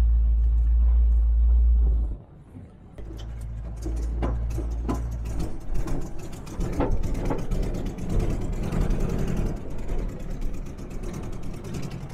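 Volkswagen Beetle engine rumbling loudly, then cutting out and catching again into a rough, uneven idle with sputtering pulses, heard close up.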